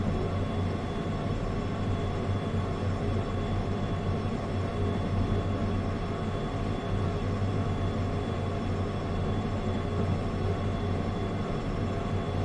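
Heavy freight train of about 1,000 tons climbing a slight uphill in a train driving video game, a steady low rumble with constant mechanical drone and no change in level throughout.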